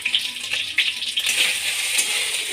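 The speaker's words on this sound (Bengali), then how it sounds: "এবার এটাকে ভালো করে ভেজে নিতে হবে।" Dry red chilli, bay leaf, whole cumin and ginger paste fry in mustard oil in a pan, giving a steady, bright hiss with small crackles and pops, close and without talk.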